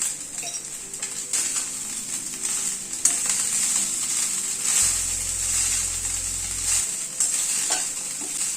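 Rice lightly frying in a pan for Bengali chhana pulao, stirred now and then, with a steady close sizzle and soft scraping of the spoon throughout.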